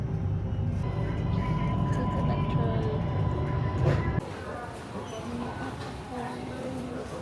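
Bangkok metro station ambience: a steady rumble of a train moving through the station, loud and continuous before dropping away to a quieter hum with faint movement and distant activity.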